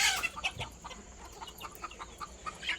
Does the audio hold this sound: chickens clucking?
yes